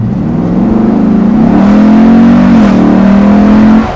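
A Land Rover Defender restomod with a 500-horsepower LT1 V8 is held at full throttle, a loud, close engine roar that climbs in pitch and sustains before easing off.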